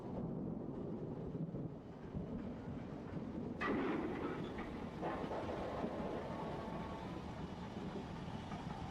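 An LMS Black Five steam locomotive runs on a preserved railway, a steady rumbling roar of the moving train throughout, with a sharper burst of clanking noise partway through and no talking.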